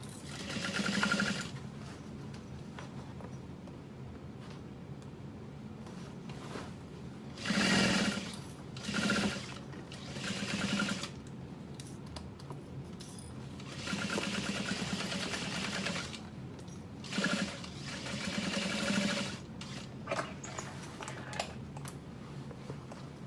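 Sewing machine stitching a modified barrel bag in several short and medium bursts with pauses between, a close mechanical rattle over quiet room noise.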